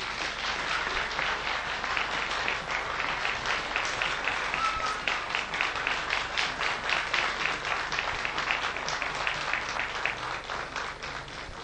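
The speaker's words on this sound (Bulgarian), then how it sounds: "Аплодисменти!" Sustained applause from a studio audience at a children's pageant show, steady dense clapping that carries on without a break from start to finish.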